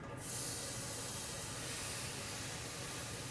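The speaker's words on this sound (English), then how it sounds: "a little bit of oil and we're gonna saute all of our vegetables, garlic, onions" Garlic, onions and leeks sautéing in oil over slow heat, a steady broadband sizzle and hiss that starts suddenly and holds evenly, close and alone without talk.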